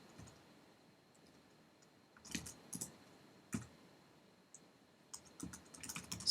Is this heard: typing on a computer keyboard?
yes